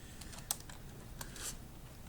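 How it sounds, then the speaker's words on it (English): Light, sparse keystrokes on a computer keyboard, a few separate clicks with gaps between them, close and quiet over faint room hiss. "So I'm just going to type in cin"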